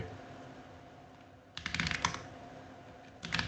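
Quick clicking keystrokes on a computer keyboard during an online group game, arriving in two close, loud bursts of rapid typing separated by a quiet pause, with no voices.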